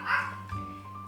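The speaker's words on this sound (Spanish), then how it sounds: "Lo lamento por el niño ladrando." A dog gives a short, muffled bark or yelp indoors, a single brief burst that trails off into low room noise.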